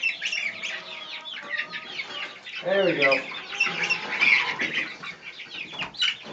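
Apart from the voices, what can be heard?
chickens clucking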